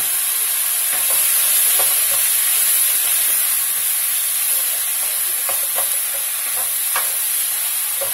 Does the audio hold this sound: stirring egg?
yes